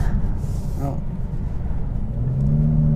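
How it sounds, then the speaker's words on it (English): An Aston Martin DBS Superleggera cruising on a UK road in GT mode, its softest and tamest setting, gives a steady low engine and road rumble heard from inside the cabin, with a brief voice near the start. "let's start off in GT mode, the softest setting and the most tame setting in this Aston Martin DBS Superleggera"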